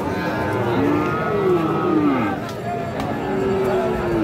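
Friesian and crossbreed bull calves moo repeatedly at a busy cattle market, several drawn-out calls overlapping one another against a steady crowd hubbub, with people talking in the background.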